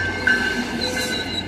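An MBTA passenger train bound for Boston rolls into the Shirley, Massachusetts station with a steady rumble and a thin, sustained wheel squeal, heard close and continuous for a moment.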